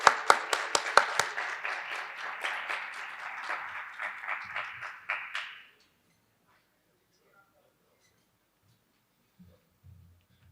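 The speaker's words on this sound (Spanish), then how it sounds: "Por favor. Aplausos." Audience applause at a hydrogen summit in Latin America, a burst of sharp, close, rhythmic clapping that fades out after about five seconds and leaves near silence.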